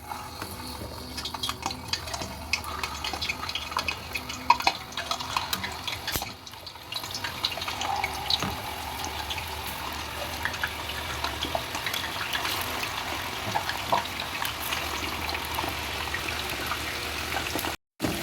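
Potato pieces frying in hot cooking oil, a steady dense crackle and sizzle with small pops, continuous and close, briefly dipping before resuming and cutting off at the end.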